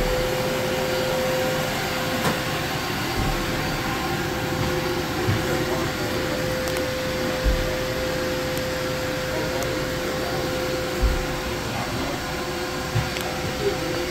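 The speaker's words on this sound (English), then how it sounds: "So let's go ahead and turn the blower on." An electric blower runs steadily to inflate the air chamber of an Alter G anti-gravity physical therapy treadmill, giving a continuous loud whooshing drone with a fixed motor hum and a few faint knocks.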